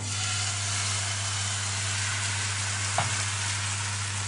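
Crêpe batter hitting a hot buttered frying pan, a steady broadband sizzle throughout with a brief pop near the end, close and alone with no talk.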